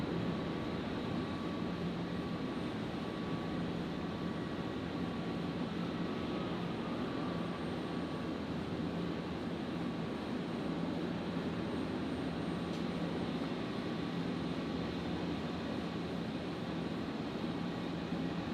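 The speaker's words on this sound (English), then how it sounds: "And Qantas 15, the 330-200, lining up behind for its departure." Qantas Airbus A330-200 lining up for departure at Brisbane Airport: a faint, steady distant jet engine hum and whine, continuous and unchanging, with no voices.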